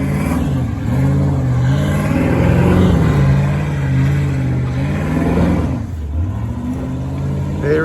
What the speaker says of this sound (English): Bit of V8 grunt